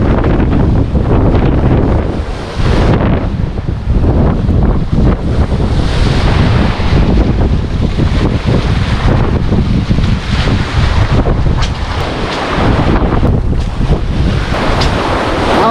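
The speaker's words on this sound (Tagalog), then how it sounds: "Mahangin ah." Strong amihan monsoon wind roars by the sea, buffeting the microphone with heavy continuous gusts over crashing surf, loud and unbroken throughout.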